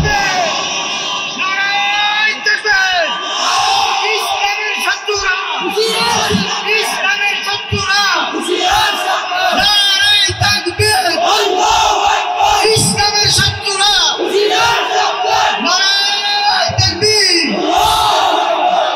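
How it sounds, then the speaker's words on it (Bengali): At a religious gathering, a large crowd loudly shouts the takbir in repeated waves, a dense roar of many voices rising and falling with a leading voice calling out over them. "তাকবীর বলো জওয়ান, জোর সে বলো জওয়ান"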